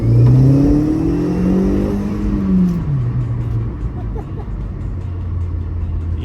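A modified Audi S3 8L accelerates hard, the engine tone climbing loudly through a gear before easing off to a lower, steady drone with background road noise.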